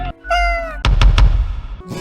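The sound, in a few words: cat meowing in a video game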